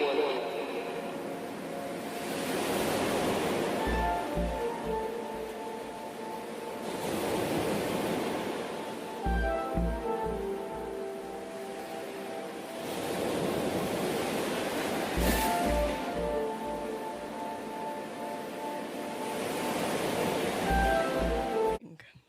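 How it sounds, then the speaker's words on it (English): Water waves swell and recede in slow, repeated surges of broad hiss, each wash rising and fading over several seconds, with soft musical tones and low thumps between them. "I love the sound of the water."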